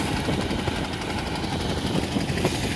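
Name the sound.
fishing trawler engine running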